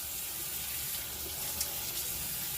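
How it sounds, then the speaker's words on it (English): Tap water runs steadily into a bathroom sink during face washing, a continuous close hiss and splash with no talking. "I am getting ready to wash my face"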